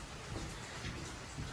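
Rain falls steadily around a covered outdoor ceremony area by the water, a soft continuous hiss with faint patters and low rumbles and no voices.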